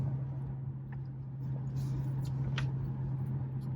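Infiniti Q50 cruising in fifth gear through snow in snow mode, giving a steady low engine drone with a constant hum and faint road noise, fairly quiet and unbroken.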